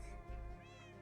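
A single drawn-out Minecraft cat meow, close and clear, with a tonal rising-and-falling call over a low steady background.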